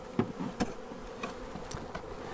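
Faint buzzing of a captured honey bee swarm inside a hive box with scattered soft bumps and taps as the lid goes on, quiet and close, no talking.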